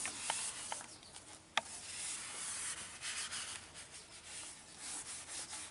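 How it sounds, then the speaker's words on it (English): A brand new paint rag wipes a Mercedes-Benz W114/115 transmission part during a fluid and filter change, making a soft continuous rubbing swish with a few light knocks, close and quiet. "You want to use an actual rag. Okay. We're using a paint rag, a brand new one."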